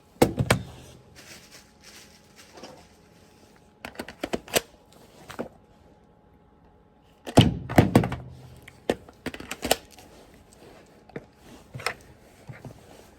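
Sharp plastic-and-metal clacks as a large magazine is seated into and released from an M17 pistol fitted with a Mamba mag well, several crisp close thunks and rattles in bursts separated by quiet gaps.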